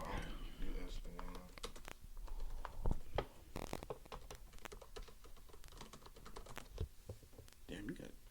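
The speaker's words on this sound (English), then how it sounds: "Damn, you got quick typing fingers" Rapid, continuous clattering of keys on a computer keyboard, dense and fairly close, with fast irregular keystrokes running for several seconds under quiet background talk.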